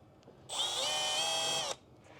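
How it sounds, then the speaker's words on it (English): Power drill run through pre-marked mounting holes while fitting a SteinWipe nozzle wiper on a Bambu Lab 3D printer, one steady high-pitched whine lasting just over a second, close and loud, starting and stopping abruptly. "run the drill through the holes first"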